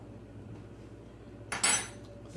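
A spoon clinks and scrapes briefly against a pot of homemade gravy, one short clatter rising over a low steady kitchen hum.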